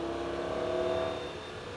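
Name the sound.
sports car engine accelerating on track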